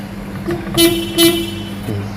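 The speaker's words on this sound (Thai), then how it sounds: "เสียงแตรก็จะประมาณนี้" A Toyota Hilux Champ pickup's horn sounds in two short, loud toots close by, over a steady idling engine hum.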